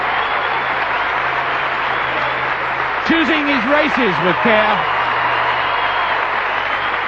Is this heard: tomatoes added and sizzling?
no